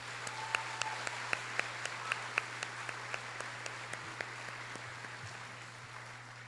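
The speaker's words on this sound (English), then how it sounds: "If we can give them one more round of applause for being so brave." Sparse clapping from the audience at an eighth grade completion ceremony, with a few distinct claps standing out over a steady background hum, moderately distant and fading toward the end.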